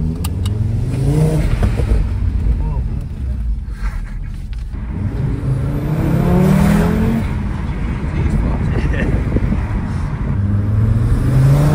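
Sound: Audi TT RS car accelerating and revving

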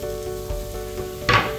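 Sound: cut green beans and green chillies frying in a wok

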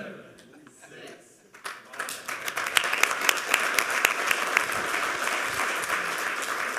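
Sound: audience applause after a lightning talk

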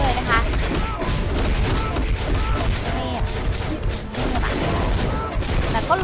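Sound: Iron Man shooting in the video game Marvel: Future Fight

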